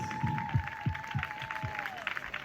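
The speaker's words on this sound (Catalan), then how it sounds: "Un aplaudiment per la lluita trans." Audience at an outdoor alternative fair in Sant Pol de Mar clapping in a light, uneven patter, moderately quiet, with a sustained tone running through it.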